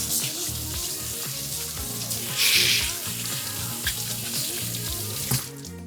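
Lukewarm then cold tap water running over a raw egg in a kitchen sink, a continuous splashing flow with a brief louder gush partway through, amid some background hum.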